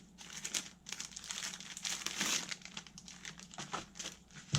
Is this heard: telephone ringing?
no